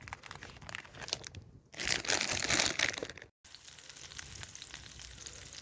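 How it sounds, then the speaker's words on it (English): Spicy Spanish chorizo sizzles and crackles in a pan over a campfire outdoors, a steady close frying hiss that swells louder midway after a brief pause. "Sizzling."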